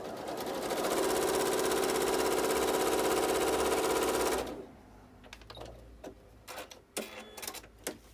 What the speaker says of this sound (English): I'm just using the default stitch on my machine, and my machine is a Janome Horizon